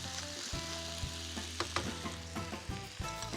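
Boiled rice hits a hot pan for a quick fry and sizzles loudly at close range, with scattered crackles and scraping stirs through the steady hiss.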